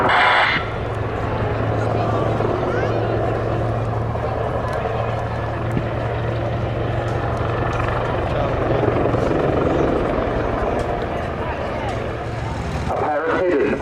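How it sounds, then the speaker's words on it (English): Two Army Air Corps Apache AH-64E attack helicopters fly close by at an airshow with a loud, steady rotor and engine roar that holds level, fading slightly at the very end. "A pair of hidden Army Air Corps Apache AH-64E attack helicopters run in."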